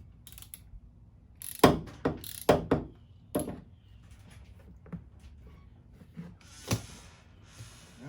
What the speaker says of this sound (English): Using my cheap ratchet here if it'll work for me.